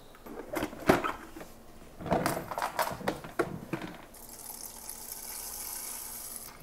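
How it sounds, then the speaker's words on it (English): Water poured from a flat floor mop bucket set into its other bucket, a splashing pour that rises in bursts and then settles into a steady, brighter trickle near the microphone, with no talk. "I'm actually just gonna pour it into here"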